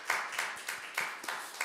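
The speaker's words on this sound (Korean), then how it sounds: "우리 모든 영광 하나님께 박수를 올려드리겠습니다." A short burst of congregation applause at a Sunday church service, about six sharp claps in a steady rhythm, fairly close and moderately loud.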